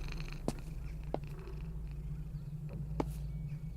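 Purring from Church, a cat in a video game, a steady close low rumble throughout with a few faint clicks over it.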